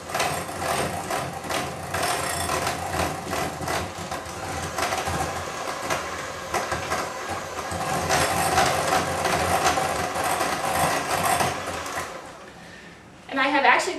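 Electric mixer beaters cream ingredients for a butterscotch cream pie, giving a steady motorized whir with shifting tone that stops near the end before a brief burst of handling noise.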